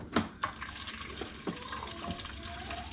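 Water runs through a Primo water dispenser, a soft continuous trickle and splash with a couple of sharp gurgling glugs near the start, quiet and close, no voices.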